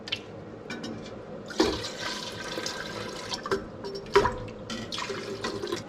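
Water poured from a tap or jug into a cooking pot holding a redfish carcass for pho broth, a steady close splashing stream with a few sharper splashes and drips, no talking.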